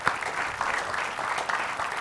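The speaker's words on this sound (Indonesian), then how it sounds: "Tepuk tangan sekali lagi buat Mas Kiki Mocha." Audience applause for a mixologist on an Indonesian show, a steady burst of clapping from a crowd lasting the whole moment, fairly close and even in level.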